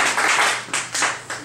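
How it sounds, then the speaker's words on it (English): A lecture audience claps hands together in a short burst of dense applause, fairly loud and close, with a few louder individual claps standing out. "Clap your hands if you've actually ever seen one."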